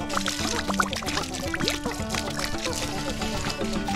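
Water runs and pours steadily from a tap at a motocamping campsite farm in San Nicolas, Pangasinan, a continuous trickle and splash mixed with background music and nearby activity.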